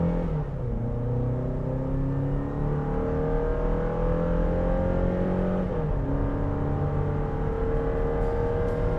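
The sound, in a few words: 2023 Toyota Tacoma accelerating hard in 0 to 60 test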